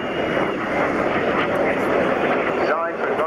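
An Aero L-159 jet flies past at the 2015 Yeovilton airshow, a continuous loud roaring rush that stays steady for several seconds while a commentator speaks over it.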